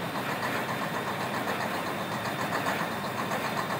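A John Deere 1050C bulldozer engine runs steadily about a minute after a cold start outdoors, a dense continuous diesel rumble with a rough knocking texture, loud and unbroken throughout.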